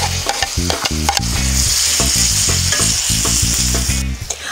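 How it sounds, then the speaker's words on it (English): Olives and apricots dropped into Moroccan chicken cooking over a campfire, a loud close sizzle with repeated clattering stirs and scrapes against the pan. "now we're gonna add our olives and apricots"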